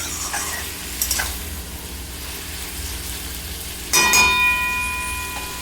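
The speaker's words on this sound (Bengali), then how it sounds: "লাউ শাক দিয়ে ভালো করে নাড়াচাড়া করে নেব" Bottle gourd greens being stirred in a frying pan, giving a steady soft sizzle with a few scraping stirs and a louder burst of clinking and sizzling near the end.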